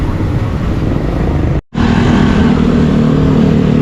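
Busy road traffic near the Grotto on Holy Thursday, a steady close drone of car engines and motorcycles with revving, briefly cut by a split-second gap of silence before the rumble resumes.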